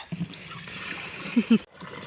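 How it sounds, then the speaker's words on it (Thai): Water poured into a pesticide sprayer tank on a farm, a steady splashing gurgle over about two seconds with a few louder sloshes near the end, then a brief stop. "ตอนนี้เราก็เทน้ำใส่เปรแล้วเนาะค่ะ"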